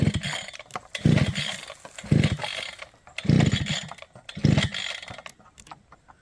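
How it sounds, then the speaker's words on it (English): Someone tries to pull-start a weed whacker, with four loud ratcheting pulls of the starter cord about a second apart. Each pull gives a brief rasping whir, and the engine never catches. "we could not get the weed whacker started"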